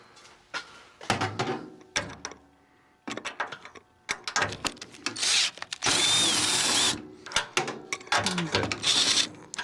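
A nut driver works a nut loose while a microwave oven is taken apart, producing close metallic scraping, clicks and rattling handling noises in irregular bursts with brief quiet gaps.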